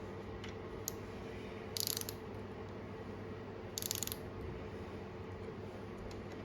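A ratchet wrench tightens bolts to 10 newton meters, giving two short, crisp bursts of clicking over a steady low background hum.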